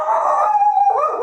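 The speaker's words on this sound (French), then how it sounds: "c'est le chien qui a aboyé à la porte là" A dog at the door of a home lets out a close, loud, drawn-out howling cry that wavers in pitch and then drops, heard alone for just over a second.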